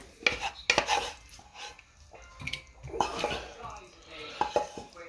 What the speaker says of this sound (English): what I'm going to do now is just put it into a Pyrex dish